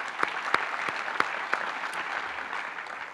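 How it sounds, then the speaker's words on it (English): Audience at an awards program applauding the presenters, a dense continuous wash of clapping with a few sharp individual claps standing out, moderately close throughout. "Round of applause for them."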